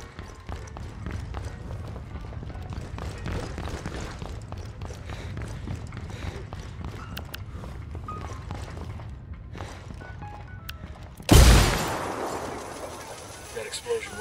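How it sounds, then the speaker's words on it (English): A C4 charge detonates in the Ghost Recon Wildlands video game, one sudden loud blast late in the clip, after a stretch of low rumbling battle noise and scattered gunfire, with a long decaying roar. "That explosion woke some motherfuckers up"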